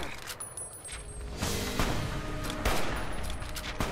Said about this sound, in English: Okay, we can shoot at you.